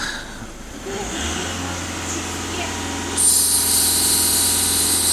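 A VW Passat 1.6 TDI diesel engine revved at full throttle, a steady low drone that rises to a louder, higher-pitched whine partway through and holds there, heard close with no speech.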